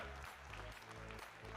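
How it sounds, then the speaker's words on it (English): Audience applause for the champions at a high school competition, a steady, fairly loud wash of clapping that holds for the whole short stretch with no talk over it. "Clap it up for them one more time"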